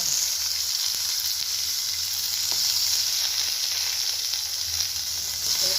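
Green chillies sizzle in a pan while poha is being cooked, a bright, steady hiss of frying that stays loud and even from start to finish, with a few faint clicks.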